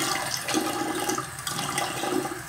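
Running water rinses alum off a freshly shaved face. A steady, close rush of water continues for a couple of seconds, with no talk.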